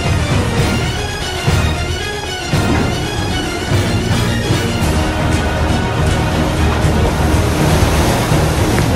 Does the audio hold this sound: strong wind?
yes